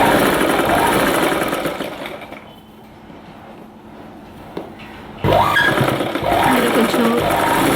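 A sewing machine stitching dress sleeves hums loudly, slows and quiets in the middle, then starts up again at full speed, with a voice speaking over it.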